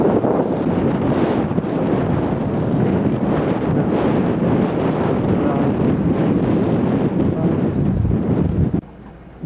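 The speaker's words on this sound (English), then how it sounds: "We've got a little wind now, heading south." Strong wind at sea aboard a sailing yacht, a loud, steady rush and buffeting across the microphone with water and hull noise underneath, cutting off abruptly at the end.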